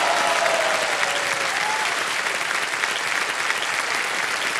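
Dense, steady applause fills a quiz show studio as the audience cheers a contestant on Kaun Banega Crorepati, with loud uninterrupted clapping throughout.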